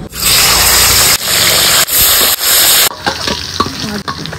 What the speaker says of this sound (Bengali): কড়াইয়ে তেল দিয়ে নিলাম, সরষের তেল। তারাপোনা গুলারে ভাইজা লমু।